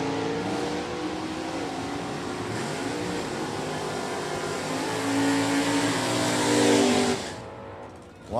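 Factory Super Stock drag race cars run at a drag strip, a steady loud engine roar holding for several seconds, rising slightly before cutting off abruptly near the end, with no talk over it.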